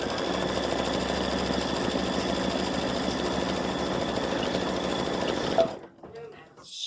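A sewing machine runs steadily, stitching an appliqué onto a Thanksgiving gnome with a wishbone, a close, continuous motor hum and needle rattle that stops abruptly near the end.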